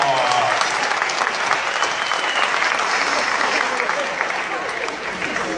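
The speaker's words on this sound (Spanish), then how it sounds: "aplauso para Shakira y aplauso para Pipo" Enthusiastic audience applause at a Miami comedy show, a dense, loud roar of clapping sustained throughout and tapering slightly toward the end.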